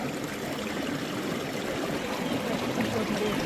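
A mountain stream in the Parsons Valley near Mukurthi Peak rushes and babbles nearby in a steady, lively flow of water, with no voices.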